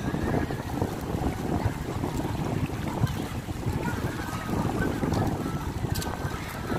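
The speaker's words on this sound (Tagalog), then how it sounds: "Kahit mahangin, kahit masama yung panahon" Gusty wind by open water where people are wakeboarding despite the bad weather, a steady broadband roar with buffeting on the microphone and faint boat or wave sounds underneath.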